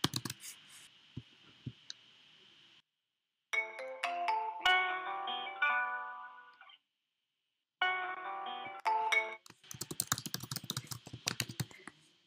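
A desktop phone call through the Freshcaller phone system rings out in repeated electronic ringtone bursts separated by short silences, with soft keyboard typing and clicks at the start and again near the end, no voices present.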